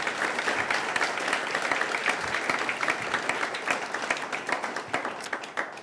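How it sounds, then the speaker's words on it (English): Sustained applause from a graduation ceremony audience honouring the Dean, dense steady clapping from a large crowd throughout without a break. "Can we please give the Dean a proper round of applause"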